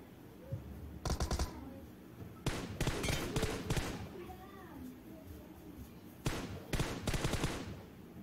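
Rapid bursts of automatic gunfire from the BGMI video game come in several separate volleys, loud and close, with gaps of quieter background sound between them.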